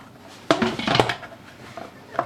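The lid of an Instant Pot is closed with a couple of close metallic clanks and scrapes, a short cluster of knocks followed by a faint rattle.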